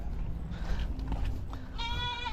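A goat bleats once, a wavering nasal cry near the end, over a steady low rumble of background noise.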